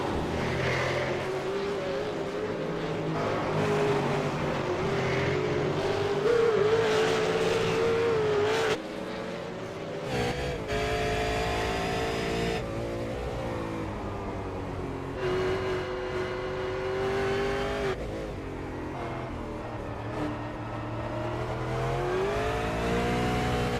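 V8 Supercar race cars racing at Road Atlanta, a loud, sustained engine roar that rises and falls through gear changes and revs, close and continuous with faint talk beneath.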